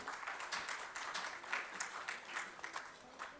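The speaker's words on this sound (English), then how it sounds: "Let's have a huge round of applause," Audience applause at the Pride of Nation Awards 2022 conference: a dense, steady wash of many hands clapping for several seconds, moderately loud and sustained without a break.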